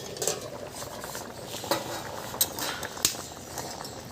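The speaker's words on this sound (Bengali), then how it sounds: "ঢাকাটা কিন্তু আমি খুলছি" A metal lid lifts off a pot of simmering taro (kochu) with tomatoes and green chillies, giving a few sharp clinks and scrapes over a soft bubbling background, with no voices.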